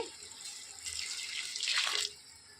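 Hot water poured into a pot for chicken dum biryani makes a soft, close splashing stream that swells in the middle and then stops abruptly, with no talk.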